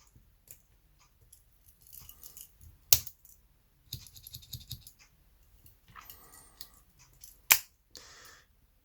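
Small metallic clicks and snaps of the scissors on a Victorinox Alox pocket knife being pulled open, two sharp louder clicks standing out among quieter scrapes, close and with no talking.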